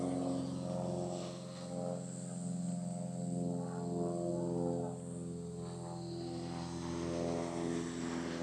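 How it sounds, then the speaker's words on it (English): A small propeller plane droning steadily overhead, a buzzing hum that swells and fades slightly at a distance. "The noise of the small propeller aeroplanes always reminds me of summer"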